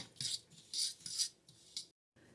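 Dry keto white chocolate macadamia cookie ingredients, including collagen, baking soda and salt, being quickly stirred in a bowl: several short, bright scraping bursts of utensil against the bowl, close and fairly quiet, with a brief pause near the end.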